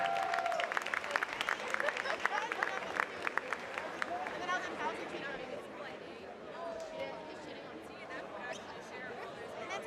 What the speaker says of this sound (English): Let's give a round of applause for Darius Farrell